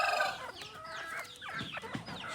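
Chickens clucking inside an enclosed coop house where young birds have been kept since hatching, several overlapping clucks and short calls at close range, steady and fairly loud throughout with no talking.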